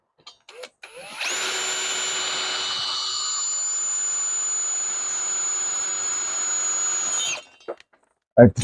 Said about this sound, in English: I'm going to try to pre-drill this one.